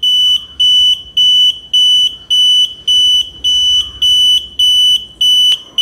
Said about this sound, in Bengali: গ্যাস যখন তার সংস্পর্শে থাকবে 2500 PPM তখন কিন্তু সে এভাবে অ্যালার্ম দিতে থাকবে।